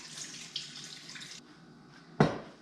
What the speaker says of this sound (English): And now I'm going to put the water in.